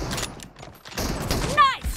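Gunfire from the mobile shooter game BGMI in a team deathmatch, a quick cluster of sharp shots and thuds, with a voice talking over the action.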